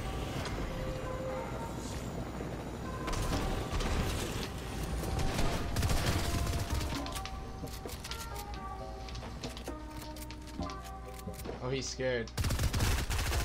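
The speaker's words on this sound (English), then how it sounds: "No one can stop the rapid fire SMG." Rapid-fire SMG bursts in a Fortnite match, dense rattling gunfire and mechanical clatter running through most of the stretch over game music, with someone talking excitedly over it.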